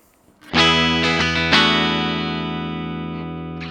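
An overdriven electric guitar plays a short strummed phrase and lets a final chord sustain, bright and crisp through a combo amp with its bright switch on, fading gradually.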